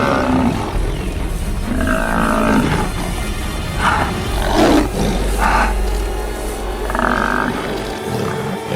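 Lions roar in the wild, backing away after a charging herd drives them off. The roars are loud, rough and close, with several long bursts rising over a steady rumbling background.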